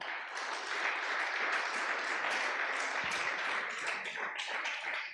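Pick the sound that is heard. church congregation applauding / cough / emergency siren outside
church congregation applauding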